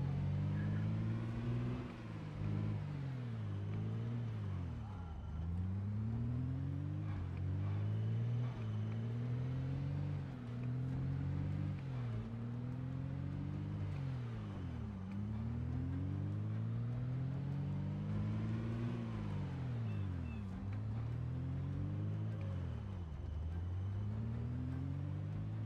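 A car drives steadily in Project Zomboid, its engine a continuous low rumble that rises and falls in pitch with repeated gear-like sweeps, loud and close with no talking.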